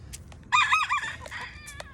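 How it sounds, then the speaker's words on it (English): A single rooster crows once nearby, a short, strained call rising over quiet background clucking from other fowl. "There's the rooster."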